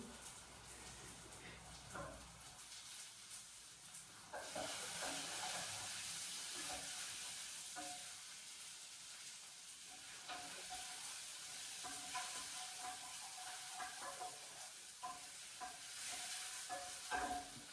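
Shallots sizzle and fry in a pan until slightly brown, a continuous bright hiss with occasional stirring scrapes, faint background talk in places.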